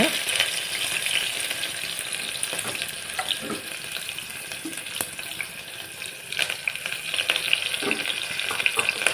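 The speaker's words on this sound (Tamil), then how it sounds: "வெங்காயம், கருவேப்பிலையும் போட்டு நல்லா வதக்கிடுங்க" Onions and curry leaves sautéing in a pan, a continuous crackling sizzle with light, scattered stirring taps, near and moderately loud, without speech.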